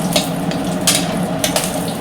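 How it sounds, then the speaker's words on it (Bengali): Garlic frying in a hot pan crackles and spits loudly up close, with bursts of sharper sizzle over a constant bubbling hiss. "রসুনটা ভাজা হোক, হলে পটলটা দেবো।"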